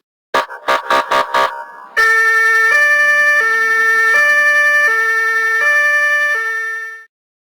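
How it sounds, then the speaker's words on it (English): A few quick electronic beeps, then a loud two-tone ambulance siren alternating steadily between high and low pitches, close and continuous until it cuts off. "ambulance"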